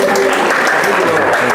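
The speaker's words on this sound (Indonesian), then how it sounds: "Tepuk tangan untuk." Applause fills a university lecture hall after a psychology class presentation, a steady, dense burst of clapping from a nearby audience that lasts throughout.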